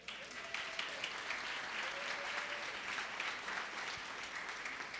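A sustained round of audience applause at a Brooklyn Arts Council regrant ceremony held in Brooklyn Borough Hall, many hands clapping steadily and evenly throughout, heard from a little distance.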